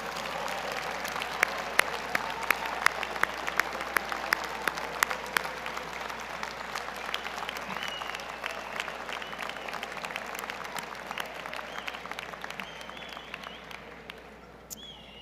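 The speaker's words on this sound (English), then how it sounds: "will you please give them a round of applause?" Graduation convocation audience at a university business school claps for the standing families, a sustained, even ripple of many hands that fills the hall and slowly tapers toward the end.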